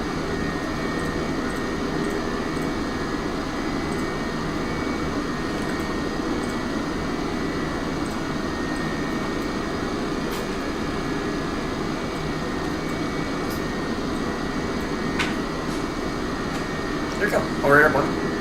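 Airliner climbing out after takeoff, a steady broadband cabin roar of engines and airflow holding constant throughout, with a brief rattle near the end.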